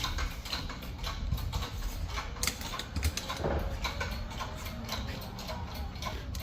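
Bolts being worked loose from a bracket on a Toyota Tacoma truck, with a rapid mechanical ticking and clicking like a ratchet turning, plus light tool handling, close and fairly quiet.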